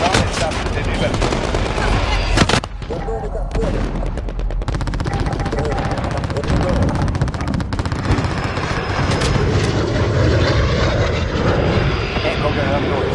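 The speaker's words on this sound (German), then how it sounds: "Drohne bereit für Überflug." Drone flyover in a Modern Warfare game: a loud, continuous aircraft engine drone fills the scene, mixed with bursts of gunfire, while radio voices speak over it.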